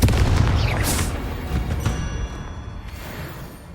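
A Confringo fire spell explodes in Hogwarts Legacy combat, a loud booming burst with crackling bright flashes up high, rumble fading over a few seconds amid other game effects.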